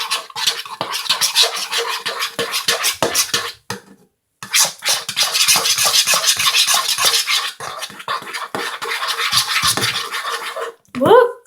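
Thick body wash and shampoo slime being stirred with sprinkled salt, giving close wet scraping and squelching strokes in a steady rhythm, with a brief pause partway through and a person talking over it.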